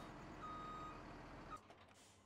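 A truck in Farming Simulator 17 parks with a steady reversing beep sounding under a low engine rumble. The engine then cuts away to a short hiss and quiet settling sounds.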